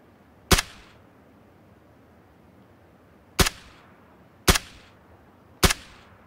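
Four sharp AK rifle shots in a video game, spaced irregularly, each a loud crack with a short decaying tail over a quiet background.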